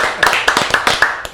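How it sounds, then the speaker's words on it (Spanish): A few people clap by hand in a handful of sharp, uneven claps, close and brief. "vamos a hacerle un aplauso a eso."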